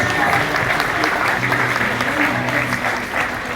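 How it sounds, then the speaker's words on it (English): An event audience in Johor Bahru gives sustained applause, a thick steady clapping wash that holds evenly throughout with a faint hum of the crowd underneath. "So again, another big applause for them."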